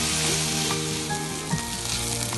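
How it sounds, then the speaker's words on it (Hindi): Onions, boiled peas and spices sauté in a pan for idli upma, giving a steady, close sizzle with occasional scrape of stirring throughout, no voices. "तो सारी चीज़ों को अच्छे से भून लेंगे।"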